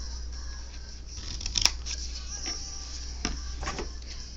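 Scissors snipping through paper while cutting a pop-up card at a desk, a few short crisp cuts spread over a few seconds, close and fairly quiet against a faint steady hum.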